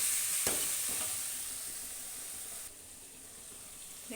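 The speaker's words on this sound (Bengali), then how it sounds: "এবার এতে দিয়ে দিচ্ছি আমি 1 চামচ মতো হলুদ গুঁড়ো আর কিছু পরিমাণে জিরে গুঁড়ো দিয়ে এবার সমস্তটা ভালোভাবে কষিয়ে নেব একটু" Turmeric and cumin powder frying in a pan, a soft steady sizzle with a couple of faint stirring scrapes, quiet and close, no voices.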